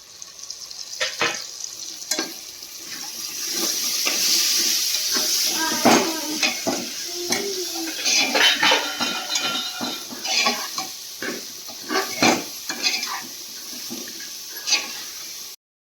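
Washed rice stir-fried in a hot tempering for paneer khichdi sizzles steadily, with frequent scraping and stirring clatters from the pan close by, then the sound thins out toward the end.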